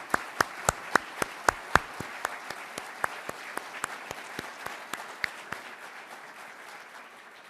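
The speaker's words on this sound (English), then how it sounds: "I would please ask you to stand and take a round of applause." Audience applause at a Senate portrait unveiling, with sharp, distinct individual claps in a steady rhythm that gradually thin out and fade as the round of applause winds down.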